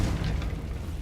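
Confringo, an explosive spell in Hogwarts Legacy, goes off as a short, heavy boom with a dense low rumble, loud and close, lasting about a second with no talking.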